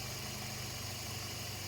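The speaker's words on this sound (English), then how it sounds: "as you can tell, the car is running, and it's running pretty decent" A 2002 Toyota Echo engine idles steadily, an even low rumble with slight vibration, close by and continuous with no other sounds.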